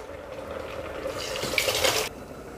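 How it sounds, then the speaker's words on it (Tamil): Cooked lentils for a Tamil sambar are poured into the pot of cooked vegetables and tomato, a steady wet pouring and splashing that grows louder near the end and then stops abruptly. "இப்போ நம்ம எடுத்து வச்சுருக்க பருப்பை உள்ளே ஆட் பண்ணிடுவோம்."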